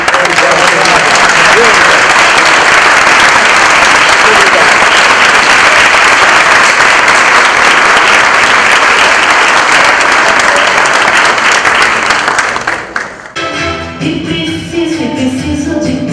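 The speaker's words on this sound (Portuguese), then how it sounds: "Aplausos para todo esse elenco." Audience applause for the cast of a Brazilian revue show, loud sustained clapping filling the room for about thirteen seconds before cutting abruptly to quieter music and background sound.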